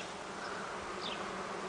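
Bees from a freshly caught swarm give a steady, even buzzing hum that carries on without a break, close by and moderately quiet, with no voices.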